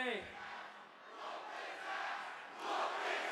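A wrestling crowd at a WWE Raw event roars and yells in a broad, distant wash of noise that swells and fades in waves, fairly faint overall.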